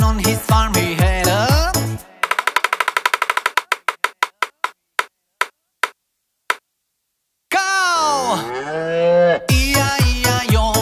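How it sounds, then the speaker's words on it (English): Cartoon cow moos in a children's nursery rhyme song about Old MacDonald's farm, bright drawn-out calls framing a stretch of rhythmic clicks and a pause, loud and close. "With a moo moo here and a moo moo there."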